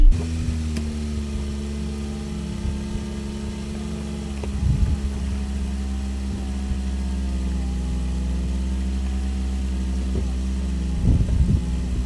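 The electric power soft top of a 2001 Saab 9-3 convertible lowers with a steady, droning motor hum, broken by a few soft mechanical clunks near the middle and end.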